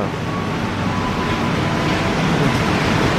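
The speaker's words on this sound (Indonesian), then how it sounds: "Ini kereta yang tadi gue naikin. Kereta bandara." Steady low rumble of an airport train running on rails, heard from inside, with continuous rolling noise and no talking.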